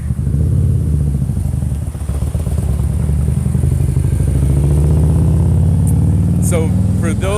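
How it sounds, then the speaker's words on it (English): A motorcycle engine rumbles past at close range on Charter Oak Street in Manchester, a loud, steady drone that builds over several seconds, with a voice talking near the end. "We're going to talk a little bit about the cool motorcycles."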